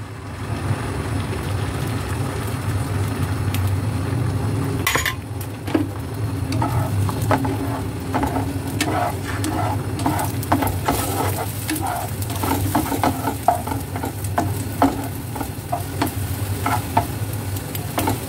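Tomato and eggs stir-frying in oil in a pan, a steady loud sizzle with frequent spatula scrapes and clicks that grow busier toward the end, close up and without voices.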